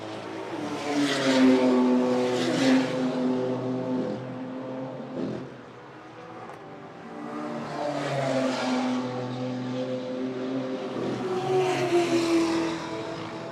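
Race cars, including a Toyota 86 and a Volkswagen Scirocco, roar past on a circuit during a club race day, with loud engine notes rising and falling in two long passes and a brief dip between them. No voices.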